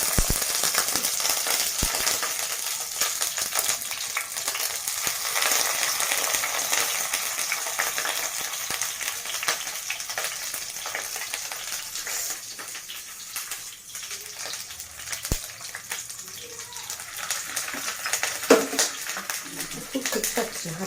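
Shrimp paturi wrapped in bottle gourd leaves fries in hot oil in a pan, giving a steady, dense crackling sizzle with scattered sharp pops and a few light clinks of utensils throughout.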